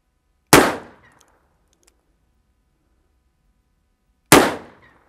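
Colt Anaconda revolver fired single action with one hand at a range, two sharp, loud, widely spaced shots, each a sudden crack that fades quickly into silence.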